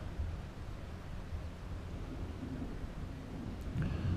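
Low rumbling thunder from a passing derecho storm rolls continuously, a steady broadband roar with a slightly louder swell near the end, no voices.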